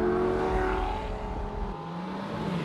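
Lamborghini sports car engine accelerating, a loud, continuous rising engine note with no voices.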